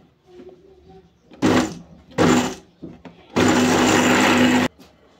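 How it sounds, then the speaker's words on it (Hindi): An electric mixer grinder grinds roasted biryani masala spices in a spice jar in three loud whirring bursts, two short pulses followed by a longer run of over a second, with quiet handling sounds in between. "अब इसको हम ग्राइंड करेंगे।"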